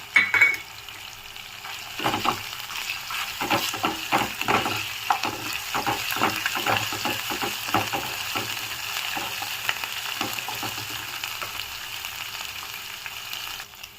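Ginger garlic paste fries in a hot pan, a constant sizzle broken by repeated scraping strokes of a spoon as it is stirred, close up with no speech.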